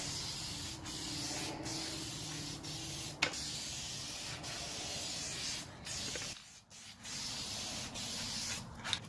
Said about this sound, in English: I use this Rust-Oleum metallic oil rub bronze aerosol spray paint for hardware